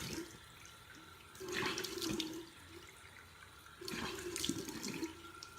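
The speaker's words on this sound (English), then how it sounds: "I just give my skin a nice little rinse" Water runs from a sink tap in two separate bursts as skin is rinsed, a soft splashing flow heard close and alone.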